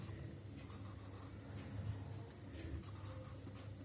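A pen scratches steadily on paper while working a maths problem, a faint, continuous rasp with light strokes and no speech.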